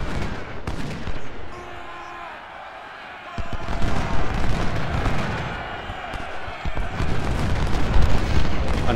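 Cannon and rifle fire in the Union campaign of Ultimate General: Civil War at Parkers Farm, heard as dense rolling volleys and booms that thicken into continuous battle noise, with scattered speech over it.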